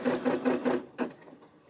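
A Brother SE 600 embroidery machine runs basting stitches in a quick, even mechanical chatter of four or five pulses, then stops, leaving a couple of faint clicks.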